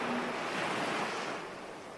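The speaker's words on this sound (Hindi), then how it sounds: "एक बहुत सुंदर सागर का किनारा है, जिसमें बहुत सारी सागर की लहरें उछाल खा रही हैं।" Ocean waves break steadily on a seashore, a dense, continuous surf wash that is loud and close with no voices, fading slightly toward the end.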